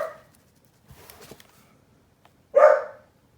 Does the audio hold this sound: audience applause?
no